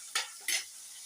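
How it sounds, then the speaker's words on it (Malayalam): Two brief scraping strokes of a spoon stirring shallots, green chillies and curry leaves as they sauté in a pan, each stroke followed by a soft sizzle and quiet in between. "ചെറിയ ഉള്ളി ഒരു 10 ചെറിയ ഉള്ളി, പച്ചമുളക്, കുറച്ച് കറിവേപ്പില ഇട്ടിട്ട് ഒന്ന് വഴറ്റാം."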